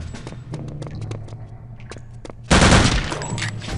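Machine gun fire in the shooter game Return to Castle Wolfenstein: rapid bursts of sharp automatic shots, then a sudden, much louder and denser barrage of gunfire with a roaring blast that fills the last second and a half.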